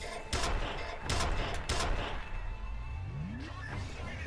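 Gunfire in the Xbox 360 shooter F.E.A.R., several loud close bursts of shots in the first two seconds, then fainter scattered shots over a continuous game background.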